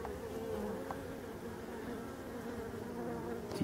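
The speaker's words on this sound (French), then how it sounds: "on voit une petite abeille qui contrôle l'entrée" Black forest bees hum at a hive entrance set in a tree, a steady close buzz of several insects with individual bees passing near the microphone, no speech.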